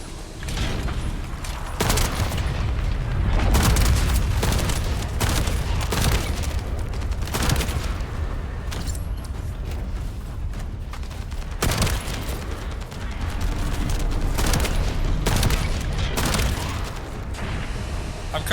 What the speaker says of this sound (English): this sniper rifle is good for long and short range